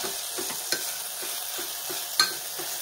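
Steady scraping and stirring of ground masala paste and tomato in oil in a pan over a soft, continuous sizzle, with a few light clinks of a spoon.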